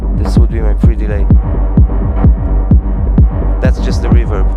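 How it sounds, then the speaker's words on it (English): A techno pattern built in Maschine has reverb on it, with loud pulsing bass thumps and tonal hits that repeat in a steady rhythm and trail off into a washy tail. "That's just the reverb."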